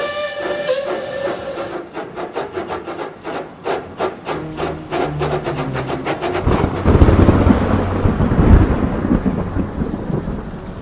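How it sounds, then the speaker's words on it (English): Rapid rhythmic clacking gives way to a deep rolling rumble of thunder with rushing, noisy wind and rain, loud and close. "the weather changed. Wind and rain buffeted Edward"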